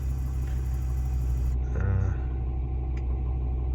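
A 2006 VW Touareg V10 TDI diesel cranks and catches, then settles into a low, slightly lumpy idle rumble close by, with a brief starter whir in the middle.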